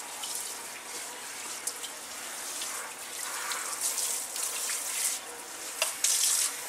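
Warm tap water runs steadily and splashes as it wets a woman's hair at a sink, a continuous close wash with small spattering bursts and no talking.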